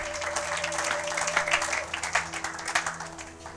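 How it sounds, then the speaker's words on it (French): A church congregation applauding during a French-language service, a sustained wash of many hands clapping in a reverberant hall, rising and falling over a few seconds with faint background tones. "Acclamons pour la gloire de Jésus-Christ notre Seigneur."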